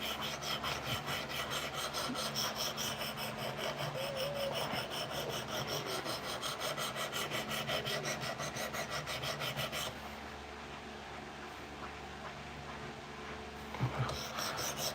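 A CPM Cruwear steel knife is drawn across a sharpening stone toward a 600-grit finish, giving steady, close rhythmic rasping strokes that continue evenly and then turn quieter and sparser near the end, with no talking.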